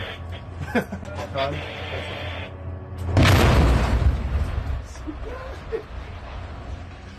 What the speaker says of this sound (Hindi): विस्फोटक लगाकर वेपन डिपो तबाह किया